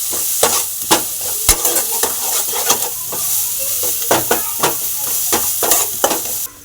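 Crushed garlic and ginger paste sautéed in a pan, sharp rhythmic spatula scrapes and taps over a constant loud sizzle, close up and without talk.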